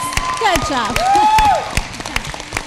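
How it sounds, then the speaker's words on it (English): Applause for award recipients at a school district board meeting, a round of clapping under a voice speaking and a whistle-like tone, fading into scattered claps. "Let's give them another big round of applause."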